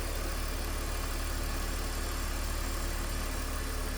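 A 2006 BMW 325Ci convertible's engine running at idle, a steady, even hum heard close and alone without any change in pace.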